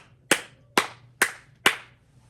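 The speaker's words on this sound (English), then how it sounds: "be happy, clap your hands like this." Four sharp hand claps in a steady, evenly spaced rhythm, close and crisp, over a faint low hum with no talk.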